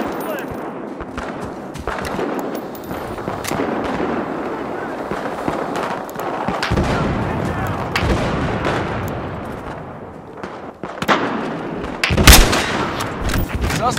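Gunfire in Battlefield Hardline as police pin down a suspect, a dense stretch of shots and bursts running nearly throughout with sharper cracks near the end, mixed with shouted voices.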